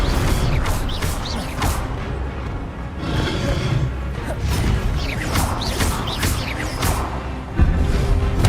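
The Incendio fire spell being cast in the Hogwarts Legacy video game, with repeated bursts of whooshing and crackling effects, thuds and mechanical clatter in a busy, loud combat mix.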